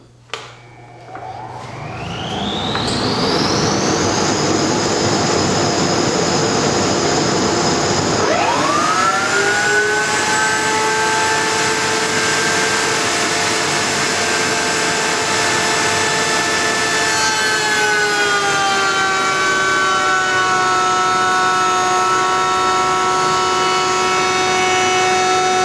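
A router bit cuts through two wooden boards fed together for a bathroom mirror build: a loud, steady high-pitched motor whine spins up and then drops in pitch as the bit bites into the wood, continuing evenly to the end.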